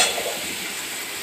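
Ginger garlic paste hitting hot oil with onion and tomato in a pan, giving a steady, close sizzle and hiss throughout the short moment.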